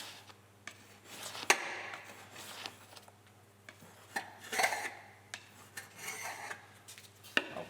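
A cheap kitchen knife cuts through foam down to an aluminium surface in a workshop, making a close, rasping scrape in irregular strokes with occasional sharp ticks where the blade catches.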